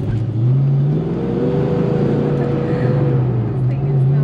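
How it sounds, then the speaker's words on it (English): A Ford Mustang Fox Body idles and revs loudly up close, its deep steady engine drone with strong low harmonics running throughout, while a voice talks faintly over it. "This thing is so loud."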